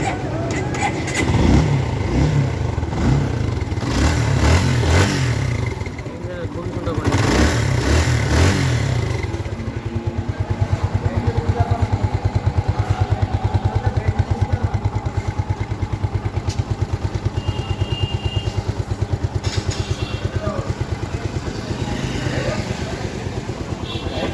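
A Suzuki Gixxer Monotone motorcycle engine cranks and starts, then idles with a steady, close, rumbling putter for about twenty seconds, and someone speaks over it early on.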